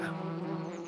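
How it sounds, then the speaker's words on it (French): A cartoon bee buzzes steadily and closely while gathering nectar from a flower, a continuous droning hum with no pause. "Oui, on est des abeilles. Bzz, bzz, bzz."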